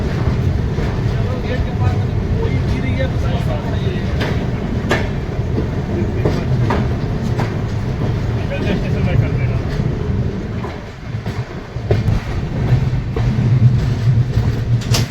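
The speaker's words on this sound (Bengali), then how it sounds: "চিত্রকূট থেকে ট্রেন ছেড়ে দিয়েছে" A passenger train pulls out of Chitrakoot Dham Karwi railway station on the Howrah–Agra route, its steady rumbling and rail clatter continuing throughout from inside the carriage, with talk over it.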